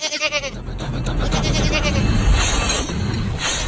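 Goats bleat repeatedly in a close, loud cluster, their wavering cries overlapping against a busy rural background.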